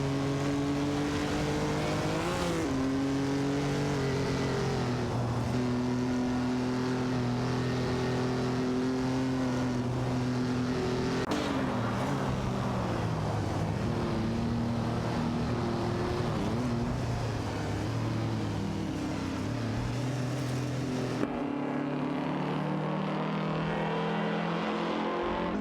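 Several race cars, including two Lancias, battle for position on a circuit in a racing video game, their engines droning steadily with harmonic whine that rises and falls through gear changes, continuous and loud throughout.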